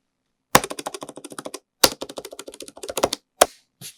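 Button presses on a Razer Kitsune leverless controller: bursts of fast, crisp clicking with a hard first strike followed by a quick rattling run, repeated in a few close, dry clusters with brief silences between.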